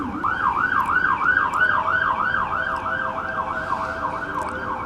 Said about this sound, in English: now that the sirens went away